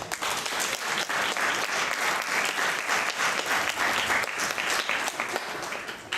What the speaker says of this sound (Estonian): Aplaus kõigile osalejatele